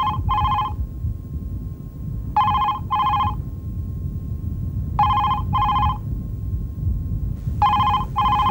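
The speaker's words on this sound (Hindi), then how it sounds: "फोन बज रहा है" A telephone rings in paired electronic bursts, four double-rings evenly spaced and clear over a low rumbling background with no talk.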